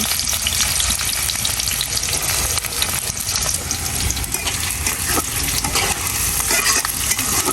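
Chopped garlic and onion fry in oil in a pan for a vegetable dish with banana stem, giving a steady, loud, close sizzle with stirring scrapes throughout and no talk.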